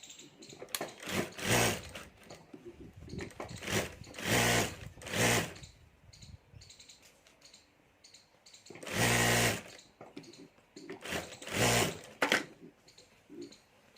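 A sewing machine stitches a pocket onto a handmade purse in a series of short, loud, close bursts separated by brief pauses.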